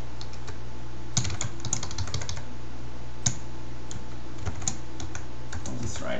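Irregular bursts of clicking keys as code is typed on a computer keyboard, close and fairly quiet, with short clusters of keystrokes separated by pauses over a low steady hum.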